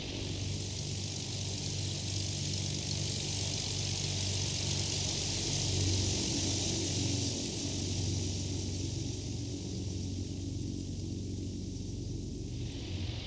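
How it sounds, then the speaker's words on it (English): Simulated Just Flight PA-28R Arrow III piston engine in X-Plane 11, heard from outside the airplane as a constant, even drone with a low rumble and a broad hiss, no voices. "I'm really liking the sounds of this airplane. It's really well done. Let's go ahead and check out the outside sounds again."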